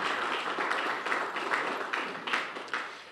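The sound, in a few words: audience applause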